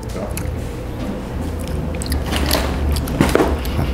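Someone chews breakfast cereal close to the mic, with wet, squishy bites and crunches that come in uneven bursts over a low steady background.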